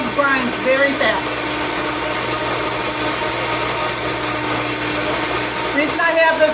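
Steady, loud mechanical whirring of a fast electric grain mill grinding about 7 or 8 cups of whole grain for blueberry bran muffins, a continuous even drone with faint speech at the start and end.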